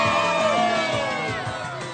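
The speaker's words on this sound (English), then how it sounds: "I want to hear everyone who already has their game cheer" At a Pokémon Diamond & Pearl launch event at the Nintendo World Store in Rockefeller Center, a crowd cheers loudly with overlapping whoops and yells, sustained and close, slowly fading.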